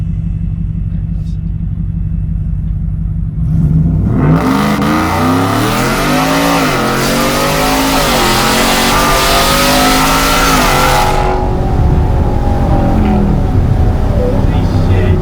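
Whipple supercharged 2021 Ford F-150 idles low, then roars into hard acceleration with a rising engine howl and supercharger whine lasting several seconds before easing off, loud and close, with people talking excitedly over it.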